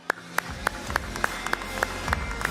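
An indoor crowd at a live gaming event applauds and cheers, with a run of sharp, evenly spaced claps standing out close over a continuous wash of crowd noise.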